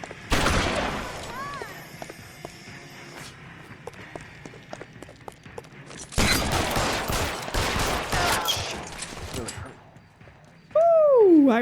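Gunfire in the LA Noire video game comes as bursts of rapid shots, quiet at first and then a loud, dense volley in the second half, mixed with footsteps and short game sounds.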